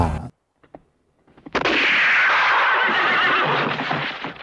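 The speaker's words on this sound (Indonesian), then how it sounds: "Mortimer dengan tenang mengambil senapan dan menembak tepat ke arah Guy, mengenai bahunya dan menjatuhkannya dari kuda." A film scene where a rifle shot knocks a rider from his horse: after a brief sharp crack and some faint knocks, a loud, sustained burst of noise follows, with a horse's whinny under it.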